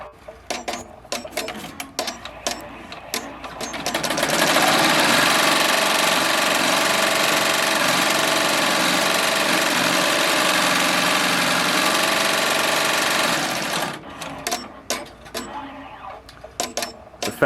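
Bernina E16 PRO 16-needle embroidery machine stitching at full speed, about 1,400 stitches per minute, a loud, dense mechanical chatter for roughly ten seconds, with quieter clicks and machine sounds before and after.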